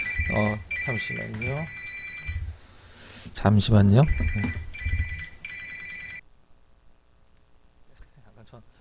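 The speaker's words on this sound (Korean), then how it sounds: "전화가 와서 죄송합니다." A telephone rings repeatedly in a studio during a live Korean stock-market broadcast, a steady electronic ring pattern under a man's speech that stops abruptly partway through, leaving near silence.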